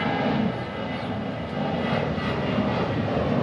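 Fixed-wing airplane passing overhead near an airport, a steady broad engine roar that stays loud and constant throughout with no one talking.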